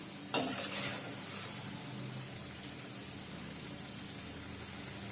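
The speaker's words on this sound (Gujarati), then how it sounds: "તો આપણે 2 થી 3 મિનિટ આ રીતે તેને તળાવવા દઈશું." Raw potato snack deep frying in hot oil, a sharp initial crackle as it goes in, then a steady, even sizzle and bubbling hiss throughout.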